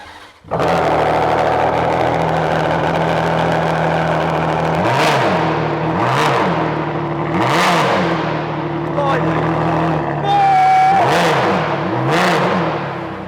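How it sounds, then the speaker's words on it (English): A loud, deep-throated 6-litre Ferrari V12 engine idles with a raw, unmuffled straight-piped exhaust, then is blipped into several sharp revving roars that rise and fall. "So let's hear this 6 litre V12 in all its glory."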